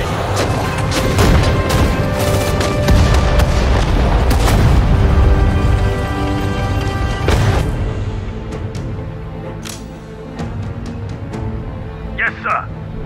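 Sudden Strike 4 World War II battle: rolling artillery booms and rattling gunfire crash in dense, loud volleys, then thin out into scattered distant shots and small bursts, with voiced unit callouts mixed in.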